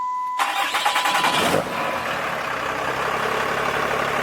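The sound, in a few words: diesel truck engine starting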